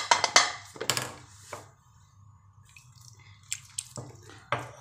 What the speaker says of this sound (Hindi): अब हमने इसके अंदर हल्का सा छींटा पानी का लगाएंगे।